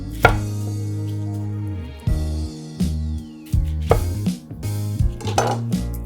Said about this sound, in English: I just cut my onion in half